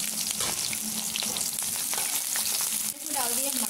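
Mustard seeds, chopped onion and chilies frying in hot oil for Maggi noodles, a steady loud crackling sizzle with stirring scrapes throughout, no talking.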